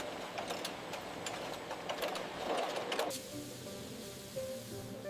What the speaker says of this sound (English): The automated capper applies the lids, creating a secure vacuum seal.